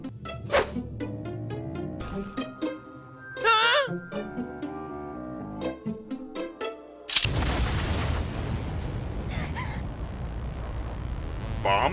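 Cartoon bombs burst in a heavy, sustained roar of explosion noise that sets in abruptly and fills the last few seconds. Before it come assorted high-pitched cartoon effects and voices.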